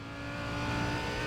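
A Lamborghini GT race car engine in the iRacing sim, running in a GT sprint race at Okayama, drones steadily and loudly with a sustained, slightly rising pitch for about a second and a half.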